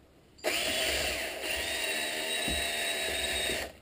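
A powered mixer stirs hardener into bushing casting compound, switching on abruptly and holding a steady, bright mechanical whine for about three seconds before cutting off.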